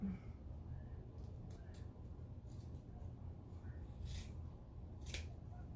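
Several short, crisp snips of scissors cutting paper, spaced irregularly over a low background hum, close by with no talking.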